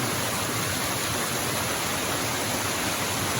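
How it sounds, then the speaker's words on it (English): A big waterfall in icy winter conditions, a steady full-band roar of rushing water that runs unbroken and fairly loud throughout, with no voices. "just below that's the big waterfall"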